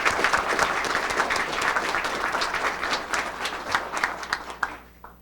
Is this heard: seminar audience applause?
yes